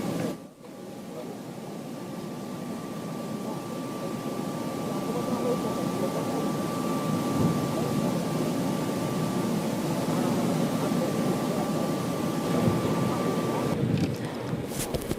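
Airport ambience during a state funeral, a broad continuous rumble of engine and wind noise that builds slightly and holds steady, with a faint sustained whine running through it and no clear voices.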